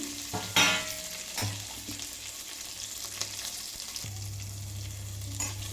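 Cashews and raisins with curry leaves frying in a pan for Kerala-style pongal, a soft oily sizzle broken by several sharp scrapes and knocks of the stirring spoon.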